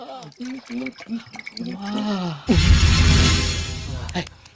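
A man drinks water in a comedy scene, a loud, steady gulping and sloshing burst lasting about two seconds that follows spoken lines and dies away as speech resumes.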